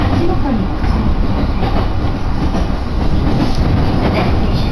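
Joban Line electric train rolling into Momouchi station, a steady loud rumble of wheels and carriage noise with faint clatter, continuous throughout with no clear speech.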